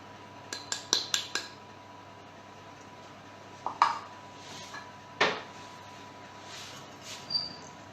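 Tuna roll batter of egg yolks, butter, gruyère, flour and baking powder being mixed in a bowl, heard as a few scattered clinks and scrapes of a utensil against the bowl, quiet and close with long pauses between.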